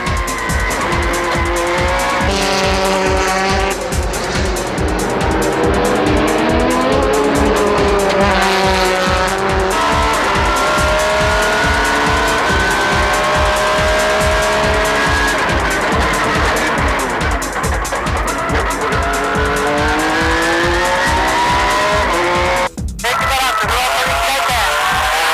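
Honda NSX race car from 2003 driving hard on a racing circuit, a loud, continuous high-revving engine with rising and falling pitch through gear changes, tire squeal mixed in, and a brief abrupt cut near the end.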